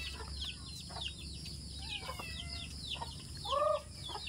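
Rhode Island chickens cluck repeatedly at a rural Philippine farm, short calls rising and falling over a steady low background hum, with a sharper squawk near the end.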